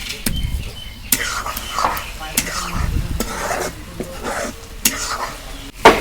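Homegrown okra fries in a pan with a steady sizzle, while a spatula scrapes and knocks against the metal in irregular strokes close by.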